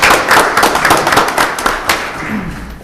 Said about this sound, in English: Round of applause for the Anchor Bay Junior ROTC.